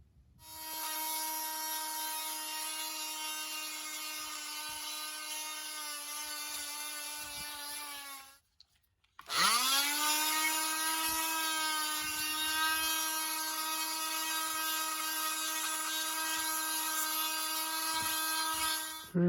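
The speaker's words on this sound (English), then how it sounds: "and then I'll cut those out with the jigsaw." Jigsaw cutting plastic 1x6 boards for a truck camper skirt, a loud steady buzzing whine that stops briefly and then starts up again for a second long cut.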